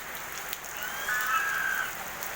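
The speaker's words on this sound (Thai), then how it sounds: "นี่ครับฝนตก" Steady rain falls in a dry rural setting, making a soft, even hiss of drops on surfaces that swells slightly midway, with no voices present.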